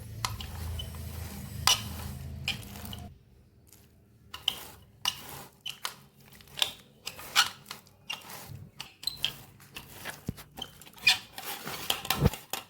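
A steel utensil scrapes and taps against palmyra fruit as the pulp is worked loose, in irregular clicks and short scraping strokes with a brief quiet gap, close and without talk.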